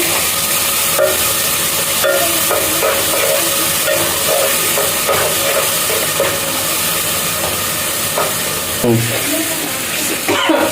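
Onions frying in oil in a pan for gongura chicken curry: a loud, continuous, broad sizzle close up, steady throughout, with occasional clinks and a brief voice underneath.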